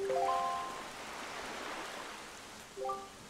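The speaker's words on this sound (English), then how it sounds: "this place suffers under dark clouds and rain" Steady soft rain falls on an eerie cursed island in Zelda Wind Waker HD, a continuous quiet hiss with brief tonal game chimes at the start and end.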